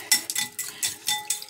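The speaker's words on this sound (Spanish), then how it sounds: "Ahora vamos a batir la miel" Honey being whisked with a utensil in a small container for an aloe vera face mask, quick rhythmic clinking and scraping strokes, close and clear, no talking.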